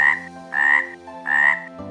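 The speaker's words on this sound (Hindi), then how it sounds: "इस छोटे से तालाब में एक मेंढक रहता था।" A small frog in a tiny pond croaking three times in an even rhythm, loud and close, with no other sound around it.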